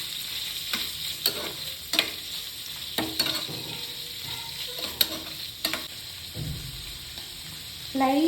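Fried paneer cubes sizzle in butter in a pan, a soft continuous hiss marked by intermittent clacks and scrapes of a stirring spoon, and a louder burst of frying at the end.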